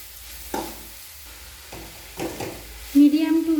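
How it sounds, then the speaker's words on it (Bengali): Close stirring and scraping of grated coconut and sugar cooking in a pan over a medium-low flame, intermittent strokes followed by a louder, steady sizzle near the end. "যতক্ষণ না নারকেল ছৌ আর চিনির পাকটা ভালো হচ্ছে ততক্ষণ এইভাবে নাড়াচাড়া করে নেব"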